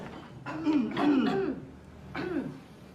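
A throaty cough or throat clearing, two rough bursts separated by a short pause, close to the microphone.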